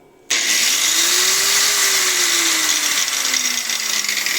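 An angle grinder spins up abruptly and runs steadily with a harsh high-pitched whine, its motor pitch rising then slowly falling, close and loud.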